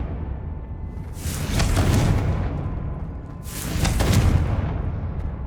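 Two heavy booming blasts from the Confringo blasting spell in Hogwarts Legacy, about two seconds apart, each swelling into a broad rumbling burst and then fading, with no talking.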